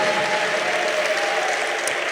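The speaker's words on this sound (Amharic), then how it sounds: "አጨብጭቡ፣ ለእግዚአብሔር ክብር ስጡ ወገኖች።" A church congregation claps steadily in worship to glorify God, a broad, continuous wash of applause with no let-up across the whole moment.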